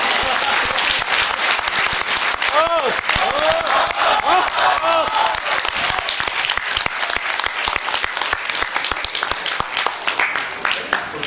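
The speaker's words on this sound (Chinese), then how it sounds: "鼓掌" Audience applause fills a Beijing crosstalk theater, loud and steady throughout, a dense wash of clapping from a crowd with scattered voices and a few shouts rising above it.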